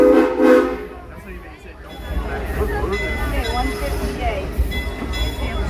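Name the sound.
train and train horn on a passenger excursion train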